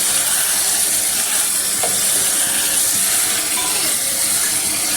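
Meat being braised (kosha) in a pan gives a steady, close sizzling hiss that runs evenly throughout, with no talking.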